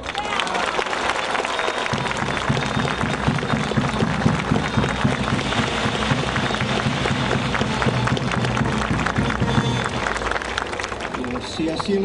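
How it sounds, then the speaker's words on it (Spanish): Loud, sustained applause from a crowd at the swearing-in of the provincial mayor of Camaná, steady clapping filling the hall for several seconds with voices mixed in. "¡Fuerte los aplausos para el alcalde electo!"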